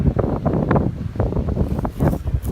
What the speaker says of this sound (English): It wasn't windy earlier. Feels great. And boom, and it's like a warm south wind